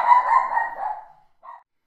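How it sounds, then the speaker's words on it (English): A dog gives one long, drawn-out bark that fades into a whine, then a short, quieter yip follows after a brief pause, close by in a quiet room, with no talking. "And then Tychus having a good old bark."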